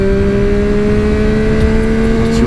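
A Yamaha MT09 A2 three-cylinder motorcycle engine held hard at high revs, a loud, steady, close whine with a sharp tonal edge and no talking.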